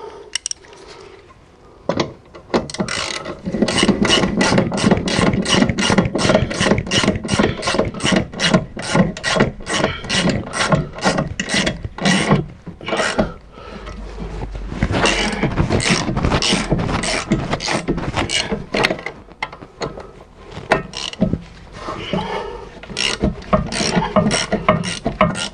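A screw is tightened with a ratchet while rear springs are refitted on an Opel Zafira: a close, loud run of rapid clicking ratchet strokes, with pauses and repeated bursts.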